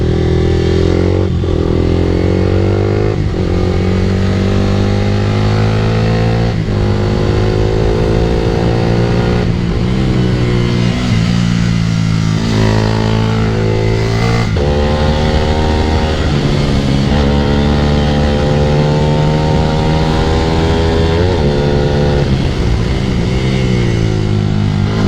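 A motorcycle ridden at a moderate, steady speed along a rough road, its engine note loud and close, rising and falling with gear changes and throttle shifts, with no talking.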